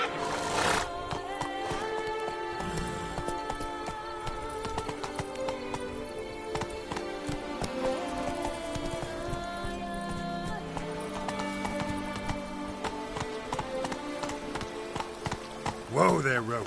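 Roach the horse gallops in The Witcher 3: Wild Hunt, with rhythmic hoof clip-clops running under a layer of orchestral game music.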